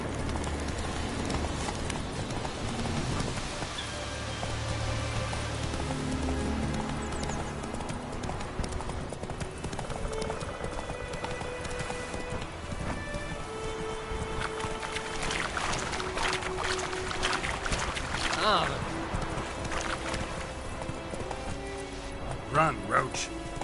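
Geralt's horse Roach gallops in The Witcher 3, a brisk, steady clip-clop of hooves that keeps going throughout. A voice talks over the hoofbeats, and the scene's ambience stays underneath.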